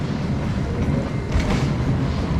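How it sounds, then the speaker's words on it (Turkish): A red double-decker train in Germany rumbles steadily nearby, with a low continuous roar and faint rhythmic rattling of carriages, no voices. "şurada ileride bak kırmızı tren"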